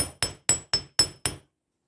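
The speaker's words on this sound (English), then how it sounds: "that's what you do with planishing hammers, is you planish" Six sharp metallic strikes from a planishing hammer smoothing sheet metal, evenly spaced about a quarter second apart with quick ringing decays, then silence.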